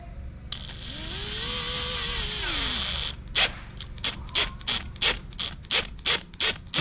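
Greased drill bit boring into soft aluminum: a steady motor whine at first, then a run of rhythmic, pulsing grinding bursts close by, with no voices.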